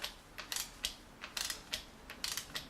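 Bolts on an engine gasket of a BMW M52 engine are tightened with a ratchet, giving sharp clicking bursts in an irregular rhythm, close and fairly quiet, with no talking.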